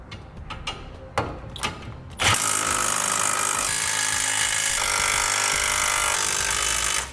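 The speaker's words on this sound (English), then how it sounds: "now we'll tighten down our center section to our rails." A power tool drives the bolts on the center section of a Curt Double Lock flip-and-store gooseneck hitch. A few sharp metallic clanks come first, then a loud, steady mechanical whirring buzz that runs for about five seconds.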